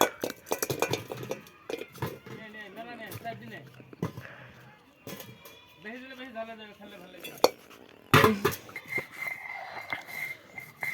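Crushed jujube paste is mixed by hand in a bowl, with close, irregular clinks and scrapes of a utensil against the dish while people talk throughout.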